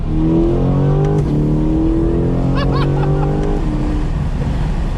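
A 2020 Chevrolet Corvette Stingray accelerates hard. The engine note climbs loudly and drops at a quick gear change, then keeps pulling.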